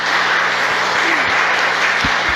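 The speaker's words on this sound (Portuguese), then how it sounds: "Uma salva de palmas" Church congregation applause: a loud, dense, unbroken roar of many hands clapping together, steady from start to finish, with a few faint voices beneath it.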